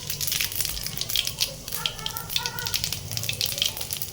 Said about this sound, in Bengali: জিরেটা ভালোভাবে ভাজা হয়ে গেছে